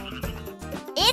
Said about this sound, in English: It's the sound of a jumping frog.